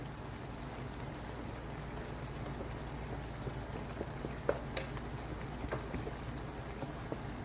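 Quiet, steady bubbling of a thick tomato-based egg and drumstick curry simmering in a pan, with occasional soft pops over a low background hiss.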